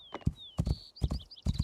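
Horse hooves clip-clopping in the Rising World video game, a quick run of close, loud hoof strikes in irregular clusters, with a high whistling tone running over them.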